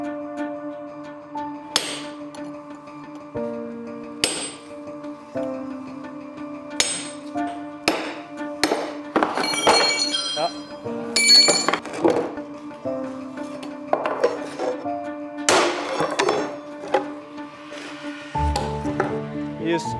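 A hammer drives a chisel into a stone slab to split it: a long, irregular run of sharp ringing metallic strikes, close and loud, some in quick clusters and others spaced apart, with a deeper thud near the end.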